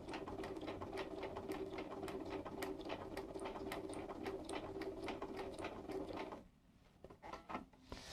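A Bernina 335 sewing machine stitches gentle curves, its needle clattering in a fast, steady rhythm for about six seconds before stopping, followed by a few faint clicks of handling.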